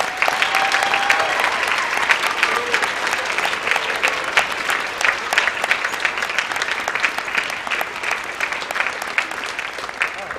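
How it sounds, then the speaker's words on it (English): Sustained applause from the audience at a high school spring concert honoring graduating seniors, a dense, even roar of many hands clapping that holds steady throughout, with a voice faintly heard beneath it. "I think they deserve one more round of applause"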